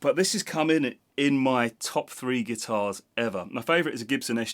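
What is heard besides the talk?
No distinct noise like a dog, phone or traffic.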